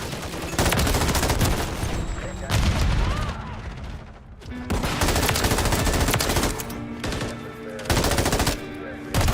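Long loud bursts of automatic gunfire in a shooter video game, several sustained volleys separated by short lulls, close and dominant with occasional talk mixed in.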